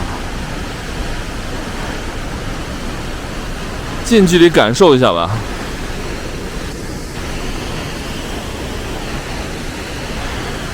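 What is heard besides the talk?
waterfall roaring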